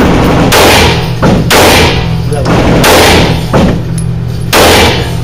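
Pistol shots from a Glock at a Las Vegas indoor shooting range ring out as five loud, sharp bangs spaced about a second apart, each with a booming indoor tail.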